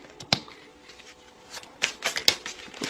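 Tarot cards are shuffled by hand in quick papery riffles and slaps, close and crisp, with a few sharper snaps as cards fly out.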